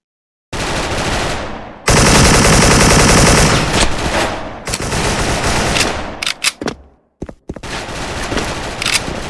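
A Predator AK74 rifle firing in the Special Force online shooter game, loud sustained automatic bursts with brief pauses and a few short stuttering volleys near the end.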